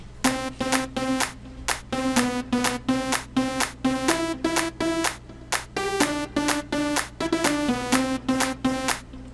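A bright house synth melody of two layered Nexus sounds, short repeated notes in a steady rhythm, two tones blending over a low sustained bass drone.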